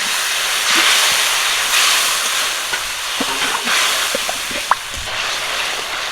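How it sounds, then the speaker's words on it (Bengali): Whole spices with black and green cardamom, cinnamon and chilli powder frying in oil with a splash of water for a large pangas fish curry, giving a loud continuous steamy hiss with occasional scrapes and clicks. "সামান্য একটু জল দিয়ে মশলাগুলো কষিয়ে নেব"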